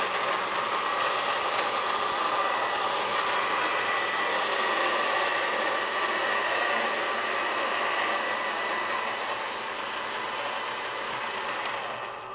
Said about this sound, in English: flatten out some of my baby blue Elite, just so that it will fit through the pasta machine again